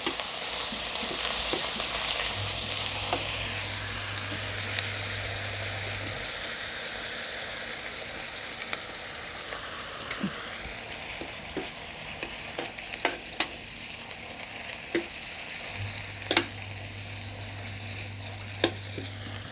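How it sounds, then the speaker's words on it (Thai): Minced pork ribs stir-fried in a wok for Thai basil stir-fry, giving a steady close sizzle with scraping stirs and occasional sharp clicks of the spatula against the pan, without any talk. "ก็หลวน หลวนได้สุกๆค่ะ"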